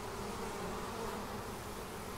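Crowds of honey bees at the lower entrance of an overpopulated observation hive keep up a thick, unbroken droning buzz, even and near, with no voices.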